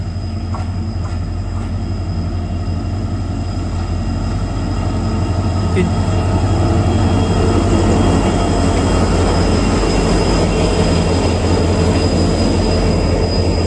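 The Mau Anand Vihar Express, hauled by a diesel locomotive, passes close by with a loud, continuous rumble and rattle of wheels and carriages, a faint high whine running over it, and someone talking under the noise.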